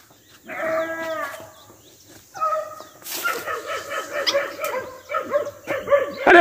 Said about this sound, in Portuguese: Aí estão juntos dos cachorros.